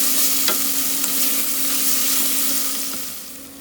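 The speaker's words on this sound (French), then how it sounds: "on fait bien revenir nos oignons" Chopped onions sautéing and being stirred in a pan while making cardoons with anchovies and black olives, a steady close sizzle with a few sharp spoon scrapes against the pan.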